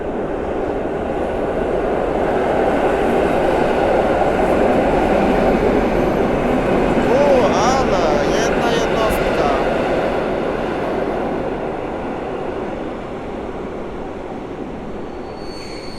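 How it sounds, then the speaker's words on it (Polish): A passenger train rolls into Warszawa Centralna station, its steady rumble swelling and holding close with high metallic wheel squeal rising partway through, then slowly easing off as it slows. "Wjeżdża pociąg osobowy z Dęblina do Łowicza Głównego."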